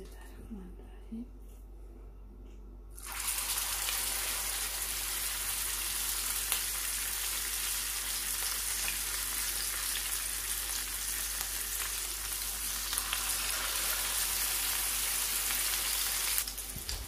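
Oil heating in a pan for chicken shami kebab breaks into a loud, dense, steady sizzle after a quiet start, holding evenly until it cuts off near the end.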